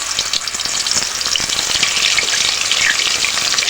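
Quail meat frying in hot oil in a wok, a loud, close and continuous sizzle with faint stirring scrapes underneath, no voices.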